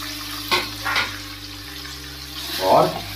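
Guava pieces tipped into a hot pan with fennel seeds over a low gas flame, giving short splashy sizzle bursts followed by a louder crackling fry near the end, close and fairly quiet.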